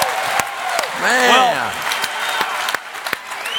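A live conference audience applauds, a loud, dense wash of clapping that swells and carries on throughout while someone speaks over it.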